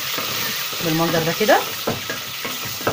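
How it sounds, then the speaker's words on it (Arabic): Meat seasoned with black pepper and meat spices sautés in a pan, sizzling and crackling under a woman's speech, with stirring scrapes and a few clatters near the end. "ومعلقه فلفل اسمر، ومعلقه بهارات لحمه، واشوح اللحمه بتاعتي كده حبايبي"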